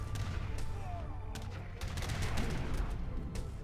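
Age of Empires III battle sounds: repeated sharp gunshot cracks and booming cannon blasts in irregular bursts over a busy game backdrop, moderately loud.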